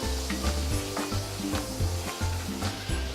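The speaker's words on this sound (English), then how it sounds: "once it stops sizzling, you can turn the heat right back on to medium" Chicken piccata sauce with alcohol added, sizzling in a pan while being stirred, a crackling hiss punctuated by rhythmic scraping strokes of a utensil, close and moderately quiet, with no talking.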